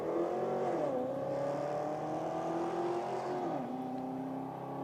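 A grey Mitsubishi Legnum and a blue Holden Commodore at a drag racing championship, engines droning steadily at a distance with pitch sliding down as they pull away, a continuous moderate roar with no talk.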